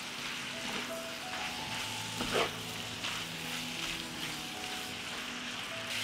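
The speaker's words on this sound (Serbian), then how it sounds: "Sve ću ovo promešati i pržiti." Sauerkraut fries with chopped bacon, garlic and onion in a pan, giving a dense, even sizzle throughout and one brief stirring scrape near the middle, with no voices.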